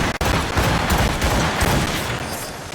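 Ship cannons fire in a naval battle in Assassin's Creed Rogue, a loud continuous barrage of booming blasts and rumble filling the whole stretch without pause.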